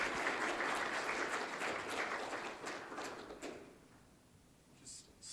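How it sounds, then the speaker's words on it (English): Audience applause for the panelists at a heritage conservation conference session, a broad wash of clapping that fades out toward the end. "let's give them another round of applause for handling those questions so well"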